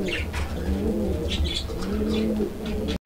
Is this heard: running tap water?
no